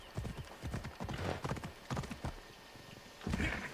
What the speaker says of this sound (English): Phobos is such a good horse